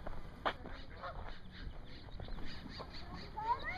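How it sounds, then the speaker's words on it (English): A flock of geese flies over a fishing lake, their honks coming faint and distant in a loose, scattered run of short calls over quiet outdoor background noise. "A herd of geese heading this way again."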